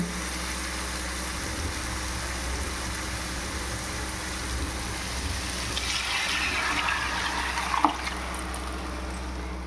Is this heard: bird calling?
no